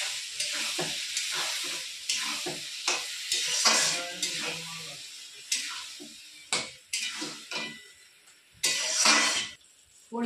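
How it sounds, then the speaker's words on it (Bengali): A paste of ginger, cumin, green chili and tomato fries and sizzles in a pan for a Bengali tilapia curry, with repeated stirring scrapes and bursts of crackling, fairly close and without talk. "দিয়ে মশলাটা দিয়ে কষিয়ে নেব।"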